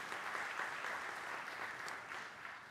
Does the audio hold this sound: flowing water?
no